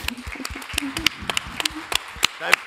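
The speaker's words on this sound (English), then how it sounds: "Let's give a round of applause to the audience." A conference audience gives scattered, uneven clapping at an early-morning business panel, with a few sharp, close hand claps spread over a couple of seconds while people keep talking over it.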